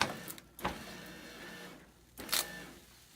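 A Scorpio laminator motor whirs briefly as media feeds forward, giving a few short mechanical buzzes and clicks at close range, separated by quiet stretches in a hushed room.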